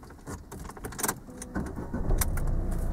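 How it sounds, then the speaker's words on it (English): A learner driver starts a car engine during a driving lesson on moving off and stopping, with a key rattle and then a low engine rumble that rises and settles into a steady idle close by. "start the engine when you're ready"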